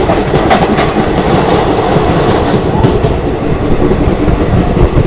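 Tulsi Express passenger train running on Indian rails, a loud continuous close rumble with rhythmic clickety-clack of wheels over rail joints and faint squeals, no voices.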